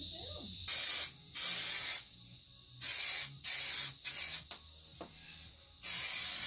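Aerosol spray paint from a pressure pack being applied to a van, a series of loud, close hissing bursts of about a second each, separated by short pauses, with a longer spray starting at the end.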